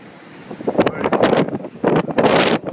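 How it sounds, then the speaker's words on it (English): Strong gusting wind on the top deck of the cruise ship Azura buffets the microphone in loud, uneven surges, with a low rushing roar underneath and no voices. "it's very windy"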